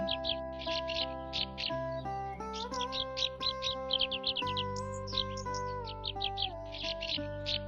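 Small birds chirp and tweet in quick bursts through a calm morning meditation scene, bright repeated calls over a steady sustained musical drone, with no talk.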